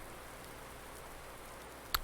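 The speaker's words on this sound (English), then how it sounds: "we're finally getting rain." Steady rain hiss in the video game Farming Simulator 19, a continuous even wash of falling rain with a short sharp tick near the very end.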